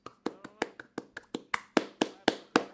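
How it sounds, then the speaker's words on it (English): Applause from an audience in the Red Dead Redemption 2 video game comes as about a dozen distinct, sharp claps in an uneven slow rhythm, growing a little louder toward the end, with no voices over them. "Jose just saunters on screen to audience applause"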